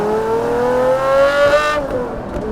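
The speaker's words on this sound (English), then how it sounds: "all of that is coupled with an HP Barchetta exhaust" A Pagani Zonda F V12 with an HP Barchetta exhaust revs up loudly nearby, a rising high-pitched wail that climbs smoothly for over a second, then cuts off into a fading rumble.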